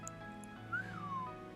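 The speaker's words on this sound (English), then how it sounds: "Someone's whistling." A single faint whistle that rises and then slides down, lasting about half a second over a quiet background hum.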